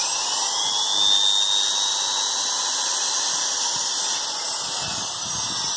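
A Japanese domestic electric grinder rated 200 W on 100 V runs steadily, giving a loud, even, high-pitched whine with a constant airy hiss that holds throughout without pause.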